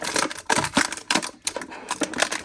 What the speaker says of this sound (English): get my knife out here or my razor. And cut that out.